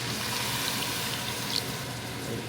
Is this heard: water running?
yes